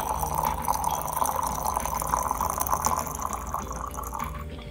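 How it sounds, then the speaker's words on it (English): Hot water heated to 185°F is poured from up high onto loose green tea leaves, making a steady, continuous splashing and trickling stream that thins and fades toward the end. "using water heated to 185 degrees Fahrenheit, pour from up high"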